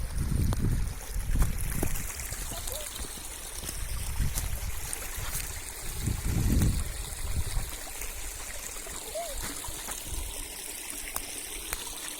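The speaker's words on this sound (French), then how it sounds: "Et toute cette eau va se retrouver dans une baissière." Water from a dam's overflow runs into a swale, a steady outdoor flowing and trickling rush with a few low bumps and wind noise, fairly close and continuous.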